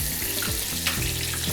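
Water pours from a container into a hot frying pan over ketchup, a bubbling, gurgling splash that stops and starts over a second and a half, close and fairly loud with no talking.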